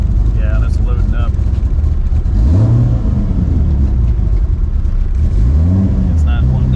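A car engine runs roughly and loads up on the road, a steady loud drone with uneven pitch that rises and sags twice as it labors, under an in-car voice talking.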